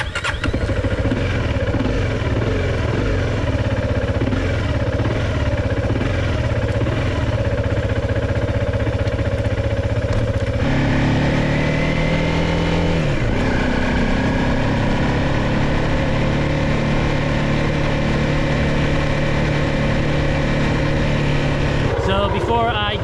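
A motorcycle engine runs continuously on a road in Thailand, its drone shifting in pitch midway as it changes speed, loud and steady throughout with a brief burst near the end.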